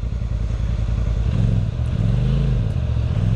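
Off-road vehicle engine rumbling loud and close while turning and backing up on a rocky trail, with low revs that rise and fall in a couple of surges.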